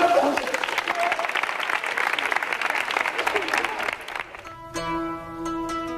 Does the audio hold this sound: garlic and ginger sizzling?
no